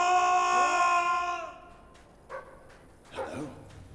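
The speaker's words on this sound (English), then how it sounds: "Sounds like the dog's found something." Dog barking in the video game Fable 3, a couple of short faint distant barks after a sustained tonal sound fades out.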